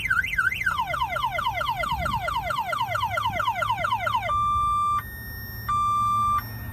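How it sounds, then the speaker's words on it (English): A 2024 Chevrolet Silverado 2500 truck alarm cycles loudly through rapid warbling chirps, then switches to long steady beeps with short pauses. "Your alarm is sounding on your vehicle."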